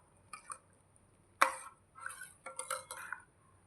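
Cashews, almond powder and cardamom being stirred together in a pan, heard as a few light, quiet clinks and scrapes of a utensil against metal in short bursts.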